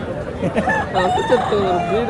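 Roosters crow at a country chicken market at the Monday village fair in Bhogapuram, Vizianagaram, with overlapping cock-a-doodle-doo calls rising over a busy crowd hum and background chatter.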